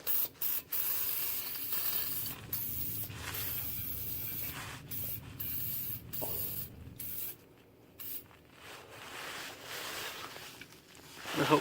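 Penetrating oil sprayed from an aerosol can onto rusted exhaust bolts of a Honda D-series engine, a close, steady hiss in several sustained bursts with brief breaks and light handling noise between.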